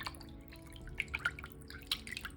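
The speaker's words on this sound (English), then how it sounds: "I'm going to start to gently agitate the fabric that's been sitting submerged in the water for a couple minutes now." Embroidered fabric is gently agitated while submerged in a basin of water, giving faint, scattered drips and small splashes over a quiet background.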